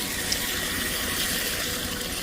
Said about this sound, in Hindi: देखिए यहाँ पर नल झूठ मूठ का खुला हुआ